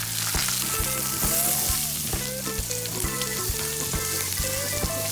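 Steak searing in a cast iron pan for steak au poivre, a loud, continuous close sizzle with crackling pops and a repeating rhythmic scraping or shifting beneath it, no voices.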